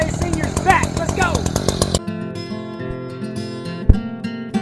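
An Echo Timberwolf CS590 chainsaw runs loud and close for about two seconds, then cuts off, leaving background sounds and a sharp knock.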